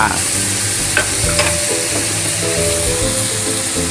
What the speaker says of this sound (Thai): ผัดให้เข้ากันนะครับกับหมู